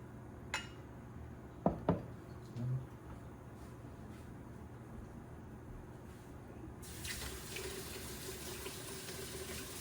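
Anise syrup pours briefly into a tasting glass in a home kitchen, a faint trickle after a few light clinks of glass, followed by a steady running-water hiss in the background.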